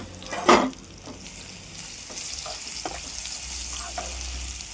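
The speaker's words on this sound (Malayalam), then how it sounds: "ബനാന ഇട്ട് കൊടുത്ത് ഇതും നന്നായിട്ടൊന്ന് വഴറ്റിയെടുക്കാം." Banana slices sauté in ghee in a pan, giving a soft, steady sizzle with a single sharper scrape of stirring early on, all fairly quiet and close.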